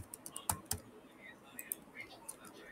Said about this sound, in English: I'm just typing any postal code.